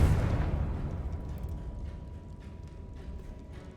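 A Confringo fire spell explodes in Hogwarts Legacy, opening with a loud low boom that decays into a rumbling, rattling tail. A faint mechanical clatter continues close by, and no voices are heard.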